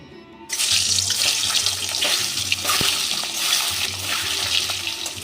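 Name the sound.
duck egg frying in mustard oil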